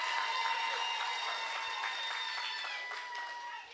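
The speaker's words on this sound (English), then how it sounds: "let's give him a Kaduna round of applause" Audience applause at an independence anniversary lecture in Kaduna, Nigeria: steady scattered clapping from a crowd, moderately loud, with a voice talking over it and the clapping fading slightly toward the end.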